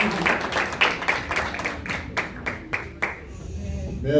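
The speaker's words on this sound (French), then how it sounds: "Je suis content pour l'applaudissement ça." A church congregation claps during a Sunday service, a run of sharp, evenly spaced claps nearby that thins out toward the end, with voices mixed in beneath.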